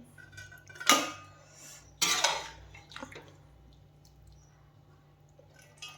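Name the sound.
transferring cooked meat curry into a pot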